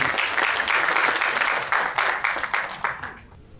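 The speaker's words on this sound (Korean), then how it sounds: "큰 박수 부탁드리겠습니다." An audience claps for a professor introduced to present field perspectives on activating Bandabi gymnasiums at an academic forum. The applause is dense and sustained, then thins into scattered claps and fades at the end.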